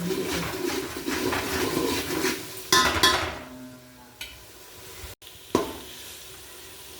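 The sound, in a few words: ginger and garlic frying in a pan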